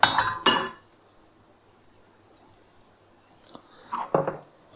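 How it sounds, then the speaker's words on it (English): A metal pot lid lifted off a pot coming to the boil, two bright clinks at the start, a quiet pause, then a rattle of metal and soft clatter near the end. "I'm going to take that lid off"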